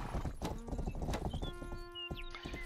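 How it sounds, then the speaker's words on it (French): Horse hooves clip-clopping in the medieval video game Rustler, a quick rhythmic trot of close hoof beats with a whinny, and game music tones ringing underneath. "Ah, c'est un cheval rapide qu'il a, lui."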